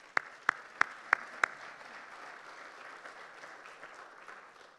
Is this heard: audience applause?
yes